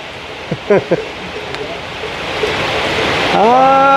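Rain falls outdoors, a steady broadband hiss that swells louder over a few seconds, with a few short voice sounds near the start and someone talking over it at the end.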